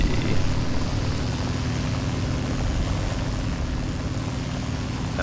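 A propeller aircraft engine drones in the War Thunder video game, a loud, continuous rumbling hum that holds steady throughout with no talking.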